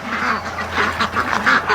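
Several ducks kept for a charity flock quack in a noisy, overlapping run of calls at close range, rising and falling in repeated bursts at night under threatening rain.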